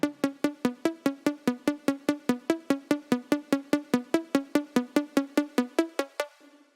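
An acid trance synth melody from a Serum preset pulses in rapid, evenly spaced plucky stabs, bright and steady, before a short decaying tail.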